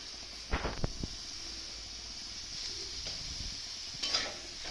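Soaked sabudana (tapioca pearls) is stirred in a pan, giving a few scraping spatula strokes and light clinks over a steady soft sizzle, close by with quiet stretches between the stirs.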